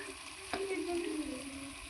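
Spices (cumin, coriander powder, chili powder, meat masala and turmeric) fry in hot oil for a silver carp curry, giving a steady close sizzle with a brief stirring scrape partway through and no talking.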